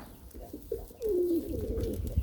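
Pigeons coo close by, a short gliding call followed by a longer rolling coo over soft background noise.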